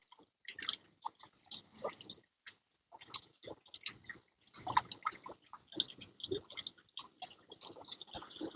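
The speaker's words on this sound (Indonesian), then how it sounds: "kita siram ngocor." Water pours onto a potted aglaonema and soaks through the old growing medium, a close, irregular splashing and dripping with scattered small wet pops that runs throughout.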